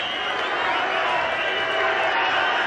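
A baseball stadium crowd at a Venezuela vs USA game in 2021 sends up a steady, dense roar of cheering that holds at full volume throughout, with no clear breaks.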